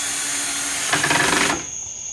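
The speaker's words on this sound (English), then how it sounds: "Pre-drilling and setting screws." A short burst of power-tool whirring, pre-drilling and driving screws while building a van kitchen, rises for about half a second over a steady background hum, then stops.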